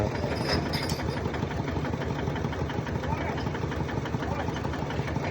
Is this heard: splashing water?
no